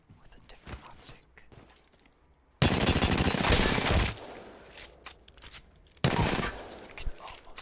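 Light ammo weapons fire in two rapid automatic bursts in the Apex Legends firing range, each lasting over a second. Quiet clicks and handling noises fill the gaps between them.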